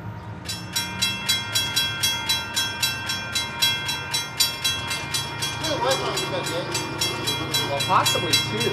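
Union Pacific 4753 leads a westbound freight train passing close by, wheels beating a steady clickety-clack rhythm over rail joints with a constant rumble, and voices talking briefly near the end.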